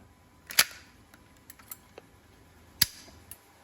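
A Winchester 1897 shotgun fires two sharp, loud bangs a couple of seconds apart. Quieter mechanical clicks and knocks fall between and after the shots, with no talking.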